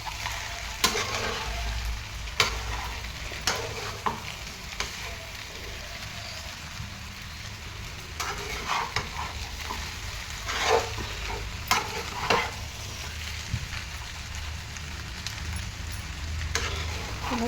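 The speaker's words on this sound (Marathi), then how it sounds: "बटाटे आता आपण परता लागलो आहे" Potatoes, thinly sliced for a yellow potato bhaji, are sautéed in a small kadhai and stirred with a spatula: a steady sizzle with repeated scraping strokes and clinks, close and fairly loud, with no talking.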